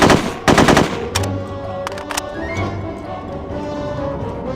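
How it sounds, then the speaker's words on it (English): Automatic bursts from a Gordon 9mm submachine gun in the video game No One Lives Forever 2, with loud rapid-fire volleys early on, then a few shorter bursts amid lingering game ambience. "all these henchmen are carrying Gordon SMGs. It's a 9mm SMG"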